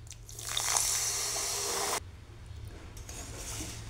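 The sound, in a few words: water poured into pan with jaggery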